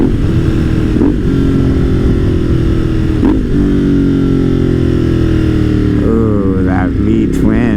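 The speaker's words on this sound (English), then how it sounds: "we'll do some engine braking here" Ducati V-twin motorcycle engine braking while riding, a loud, steady throbbing exhaust rumble close by with pitch shifts as the revs drop and gears change.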